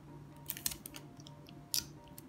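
Scissors snip ribbon for a handmade Christmas tree decoration, a handful of short, crisp cuts spaced unevenly, close and quiet, with no talking.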